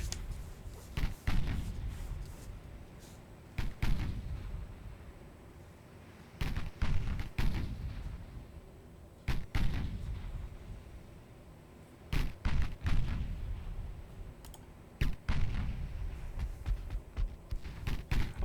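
A 4-inch naval gun fires in the Ultimate Admiral Dreadnoughts video game, with heavy booming shots repeating at irregular intervals of a few seconds, each followed by a rumbling decay.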